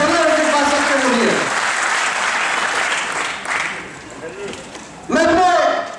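A crowd at a large community gathering breaks into loud, hearty applause for a couple of seconds; a speaker's amplified voice is heard just before and again after the clapping.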